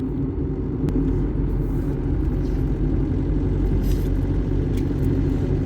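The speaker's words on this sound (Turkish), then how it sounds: "Gene trafiğe takıldık." A car sits in traffic, and a steady, loud, low engine and road rumble fills the cabin throughout with no break.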